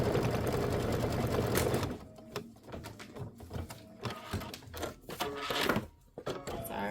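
A sewing machine stitches the crown point detail on a Kimberbell mini quilt, running in a loud continuous burst at first, then in short stop-start bursts of rapid needle clatter.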